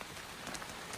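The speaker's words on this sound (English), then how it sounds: "It won't rain all day." Rain falls in a steady, soft, even hiss, faint and continuous, with no other sounds standing out.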